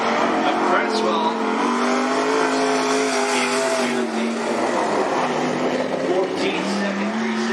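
Race car engine droning on the Cottage Grove Speedway oval, loud sustained revving tones that rise and fall slightly as cars circle, with a voice talking over it.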